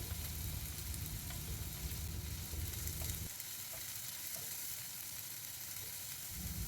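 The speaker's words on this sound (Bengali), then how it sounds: "এখানে চপ করে রাখা পেঁয়াজটা অ্যাড করে দিচ্ছি এবার গ্যাসের ফ্লেমটা হাইতে করে পেঁয়াজটাকে আমাদের একটু লাল লাল করে ভেজে নিতে হবে" Chopped onion sizzling in hot oil over a high gas flame, a loud continuous frying hiss with faint stirring clicks, steady throughout and without speech.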